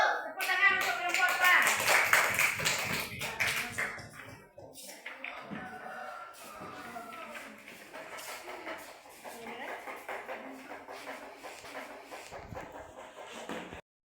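A classroom of students breaks into loud, dense applause for a student group at the end of a presentation, fading after a few seconds into a speaker's voice with scattered background noise.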